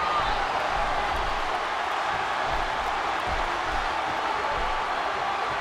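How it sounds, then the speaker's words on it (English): A virtual arena crowd in the WWE 13 wrestling video game roars in a steady, dense wash of cheering that holds at an even level with no breaks. "Would you listen to this crowd show their appreciation for these amazing competitors?"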